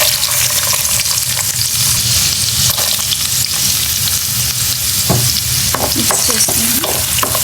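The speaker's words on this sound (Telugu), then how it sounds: "ఆనియన్స్ బ్రౌన్ కలర్ వచ్చే వరకు ఫ్రై చేసుకోండి." Onions fry in a pan with a loud, constant close sizzle, punctuated by stirring scrapes and clinks, and a short spoken word near the start.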